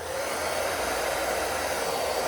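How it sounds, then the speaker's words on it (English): Hair dryer blowing steadily and loudly up close while warming a decal on a 1974 Yamaha mini bike gas tank, a continuous even whoosh with no talk. "but I take the hair blower,"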